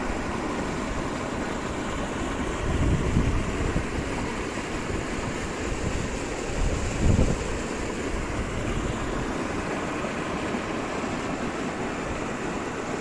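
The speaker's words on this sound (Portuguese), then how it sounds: "Toda essa água aqui é saindo do açude da gente." Water rushing out of a farm reservoir (açude) and cutting channels in the ground, a steady broadband roar with surges near three and seven seconds, mixed with wind buffeting the microphone and no talk.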